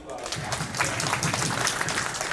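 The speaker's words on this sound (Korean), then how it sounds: "자, 박수를 받아주시기 바랍니다" Audience applause at a local party convention, a dense wash of clapping holding steady for a couple of seconds, with voices mixed into the crowd noise.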